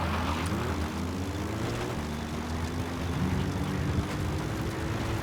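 Helicopter engine and rotor drone from the video game Metal Gear Solid 5, a steady loud mechanical hum with rising tonal whine, continuous with no voices.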